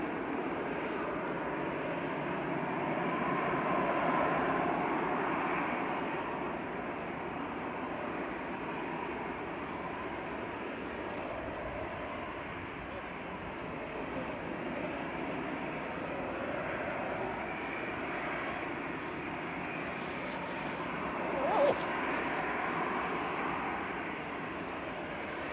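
A Delta shuttle airliner arriving at Manchester Airport gives a steady, broad engine roar at moderate distance, holding level throughout with a slight swell midway and a brief sharp noise near the end.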